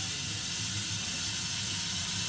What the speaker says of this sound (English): boiling, we wait until the water's basically boiled away